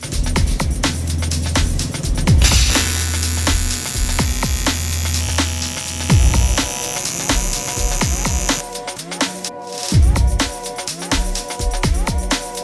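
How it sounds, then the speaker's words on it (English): Aluminium TIG-style welding on a supercharger intercooler and boost pipes for a twin-supercharged Mercedes, a loud continuous electric buzz with a steady hum, broken by short pauses and restarts, no talking. "I can go ahead and get the parts fully welded up."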